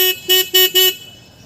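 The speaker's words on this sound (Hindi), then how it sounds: "और हॉर्न बजा रहा हूँ" A Suzuki Access 125 scooter horn sounds four short, loud, evenly spaced honks at close range. The last honk fades into a quiet tail, and no one speaks.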